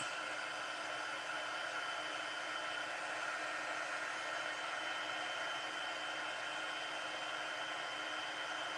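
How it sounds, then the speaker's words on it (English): Handheld heat tool blowing to set embossing powder on a Christmas card, a steady, even hairdryer-like whoosh that holds at constant level throughout with no voices. "I'm going to use my heat tool to heat set this."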